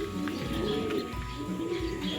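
Pigeons in a loft cooing softly in low, repeated throaty calls, a few close birds overlapping under a faint steady background hum.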